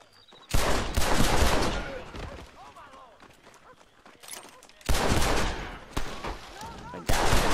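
Repeated loud gunfire bursts from a high-powered pistol in the Western game Red Dead Redemption, shots in clusters with quieter gaps between, someone talking under and between the shots.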